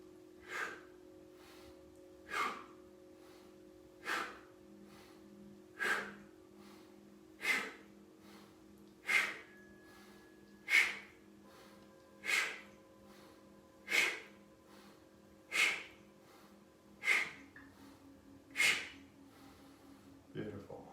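Deep, slow inhales and exhales in a yoga class, about a dozen evenly spaced breaths, each a soft rushing swell, heard close over a quiet, steady background hum.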